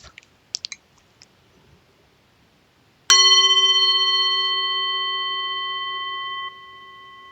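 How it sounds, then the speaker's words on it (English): A single clear bell closes a mindfulness session with one bright strike after a few soft clicks. Its pure ringing tone hangs and slowly decays for several seconds before it is damped. The setting is quiet, with no voices. "just listen to the bell."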